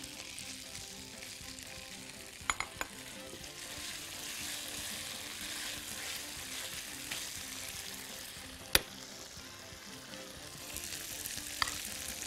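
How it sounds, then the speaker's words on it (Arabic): Sausage with caramelized onions frying in a lightly oiled, salted pan gives a steady, close sizzle throughout, with a few sharp utensil clicks and scrapes from stirring and no talk. "بعد كده نحط السجق اللي متشوح بالبصل المكرمل"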